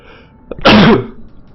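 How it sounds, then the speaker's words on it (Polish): A person sneezes into their hand while trying to hold it back, a single close, loud burst after a small preliminary catch of breath, with quiet room noise before and after. "Próbowałem powstrzymać i trochę sobie kichłem na rękę."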